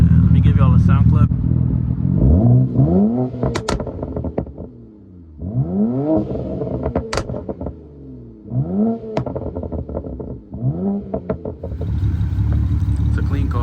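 A BMW 335xi with a VRSF catback exhaust idles and is revved sharply about four times, each loud close blip rising and falling back to a low rumble.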